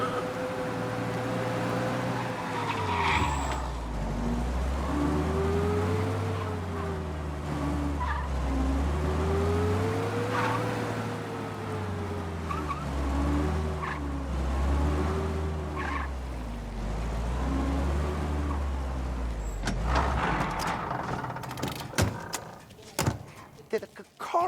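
Car engine in Mafia Definitive Edition droning steadily with rising and falling revs and occasional tire skids, lasting throughout under a game soundtrack, ending in sharp clicks.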